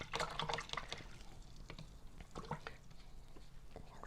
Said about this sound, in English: Rinse and clean my brush